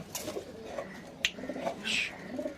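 A black male pigeon coos softly in short throaty bursts, with a sharp click partway through and some rustling nearby.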